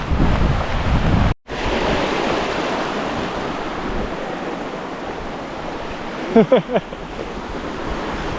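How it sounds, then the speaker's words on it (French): A mountain torrent rushes in a steady, broadband roar beside an alpine trail, loud and close with wind buffeting the microphone and a brief dropout early on. "avant ça on longe un peu le torrent là"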